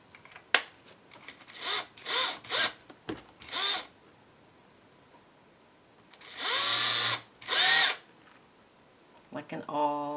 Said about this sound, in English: And I'm just going to make a starter hole with my drill.